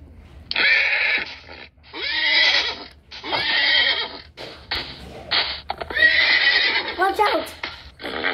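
A Minecraft horse neighs in the video game: a run of loud, close whinnies in separate bursts, several in a row with short gaps between them.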